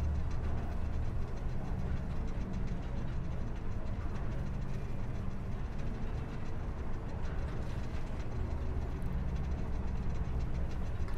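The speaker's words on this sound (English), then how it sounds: "Hey, yo, is this a train?" A train rolls past in the video game Star Wars Jedi: Survivor, a steady, loud rumble with faint clattering carriages that fills the whole stretch without speech.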